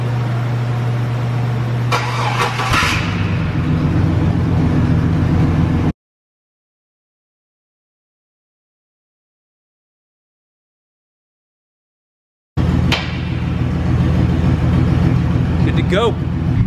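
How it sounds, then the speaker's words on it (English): A truck engine runs with its exhaust refitted, a steady rumble that shifts and grows fuller as it picks up. The sound cuts out for several seconds partway through, then the loud running returns, with someone talking nearby. "Now we got some exhaust back on this thing."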